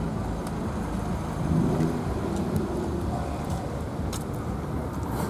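A small Daihatsu Copen roadster drives past at a retro car meet in Bietigheim, its engine a steady broadband roar that swells briefly mid-pass, with no talking.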